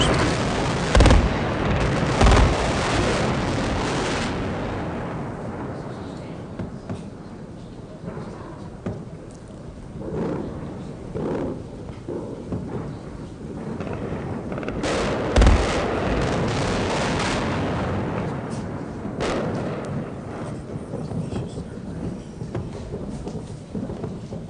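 Bombs and artillery pound Baghdad during a heavy air raid, with loud booming blasts and rolling rumbles that come in repeated bursts and then fade to a sustained low roar.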